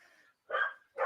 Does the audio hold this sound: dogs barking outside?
yes